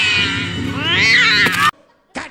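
A cat yowls loudly in a scene from the animated film Coraline, a long harmonic caterwaul that rises and then cuts off abruptly, followed by a short burst of noise.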